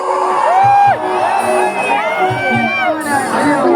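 A concert crowd yells and cheers loudly at close range. Sustained whoops and shouts overlap into a dense roar for a few seconds.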